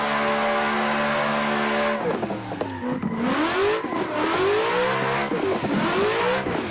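A car in a third-person driving video game, its engine revving up and down through the gears while the tires squeal around corners, loud and close with no talking.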